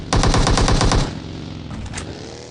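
Rapid automatic gunfire in a mobile battle-royale shooter finishes off a downed player, a loud close burst of about ten evenly spaced shots, then a few fainter scattered shots afterward.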